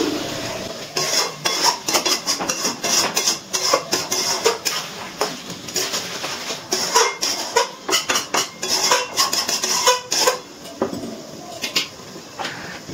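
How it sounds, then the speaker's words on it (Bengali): Chicken and potato curry being stirred in a pot, with a spoon scraping and clinking against the metal in repeated close strokes, interspersed with clatter of utensils. "একটু নাড়াচাড়া করে নিচ্ছি।"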